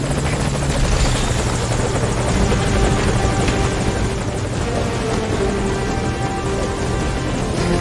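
Helicopter waiting at a landing zone in the video game Metal Gear Solid V: Ground Zeroes, a loud continuous rotor and engine drone held steady and close with no voices.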